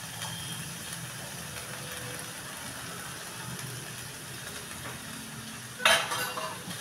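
Frozen peas and chopped tomato are sautéed in a pan for vermicelli upma, a soft, low sizzle with light stirring and scraping, then a sharper clatter and burst near the end.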